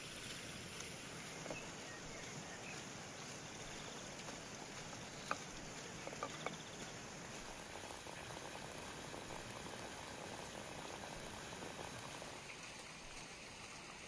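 A samovar heating water at a mountain wilderness cooking camp gives a steady, continuous bubbling rush throughout, moderately loud and close, with a few faint clinks along the way.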